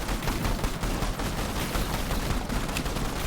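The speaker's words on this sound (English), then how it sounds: "Let's try this frost grenade." Turret fire and a frost grenade sound off in a tower defense video game as a dense, continuous barrage of loud rapid shots and blasts.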